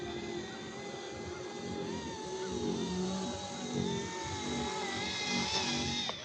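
An Eachine E120 scale RC helicopter with optical flow positioning hovers through an automatic landing, its rotor and motor giving a steady, close, high-pitched whine that wavers slightly in pitch across the whole stretch.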